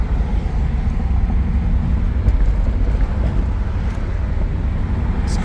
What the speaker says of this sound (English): This car is just a fun car to kind of drive around and